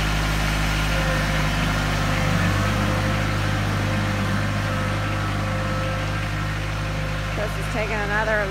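A tractor engine drones low and steady, idling continuously throughout during brick patio removal, loud and close, with a brief voice near the end.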